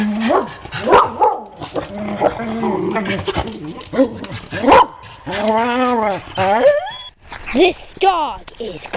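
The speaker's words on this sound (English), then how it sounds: "This dog is barking for protection." Dogs out on a walk bark repeatedly and loudly up close, sharp barks and yips mixed with whimpering and excited whining, with people talking alongside at times.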